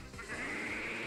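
Gogoat, a goat Pokémon, gives its cry in a Pokémon game battle: a single bleating call, nasal and sustained, fairly faint with no talk over it.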